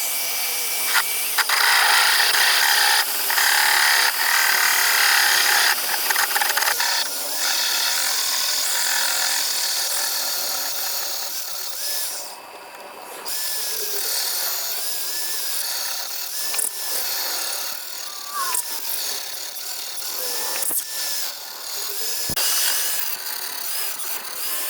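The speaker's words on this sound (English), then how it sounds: "now we're gonna step up to the next size drill" Drill stepping up to a larger bit boring through metal while repairing a large door opener, a sustained high grinding whine that wavers and dips in pitch, close and loud for the whole stretch.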